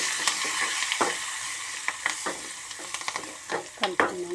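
Garlic, curry leaves and turmeric sizzling in a hot pan, a steady bright crackle broken by repeated scrapes and clacks of a stirring spoon, close and fairly loud.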